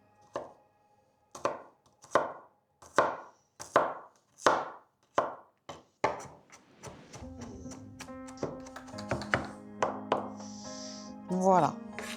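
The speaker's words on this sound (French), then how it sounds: "Et là, on va couper tout fin pour pouvoir le mettre un petit peu entre les petites tranches" A knife chops garlic finely on a board with about eight evenly spaced, crisp thuds. The chopping then gives way to clinking, other kitchen noises and music.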